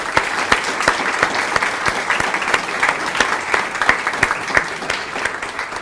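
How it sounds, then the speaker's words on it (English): Audience applause at an awards ceremony honoring the organizers: dense, steady clapping with sharp individual claps standing out throughout, fairly loud and sustained without a break. "please, a great round of applause for the organizers"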